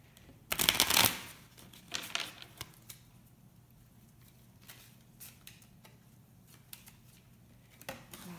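A crystal oracle card deck being shuffled, with a loud riffle burst near the start followed by softer, scattered card flicks and taps, close and otherwise quiet.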